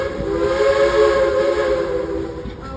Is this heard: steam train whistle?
yes